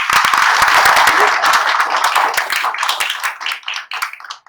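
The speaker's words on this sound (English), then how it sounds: "a big round of applause" Audience applause after a panel talk on AI and medicine, loud dense clapping from many hands that holds steady, then thins into fewer distinct claps and tapers off near the end.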